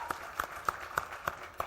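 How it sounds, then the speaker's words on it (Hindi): Slow, evenly spaced single claps at a TV show launch event, about six sharp hand claps roughly every third of a second, fairly faint and isolated rather than full crowd applause. "कंगना के लिए जोरदार ताली हो जाए"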